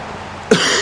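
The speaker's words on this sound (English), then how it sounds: "if there's some coughing and spluttering, I do apologise" One abrupt, close cough from a man who is ill, a short harsh burst following a low hum of background noise.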